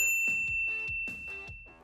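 A bright notification bell dings in a quick run of four tones, each a clear metallic strike with a short ringing decay, close and alone with no voices.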